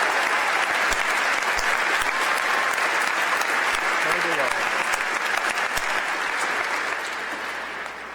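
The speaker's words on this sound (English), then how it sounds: "Let's give these young folks another round of applause." An inauguration ceremony audience gives sustained loud applause that fills the whole stretch with dense clapping, tapering slightly toward the end, with voices mixed in underneath.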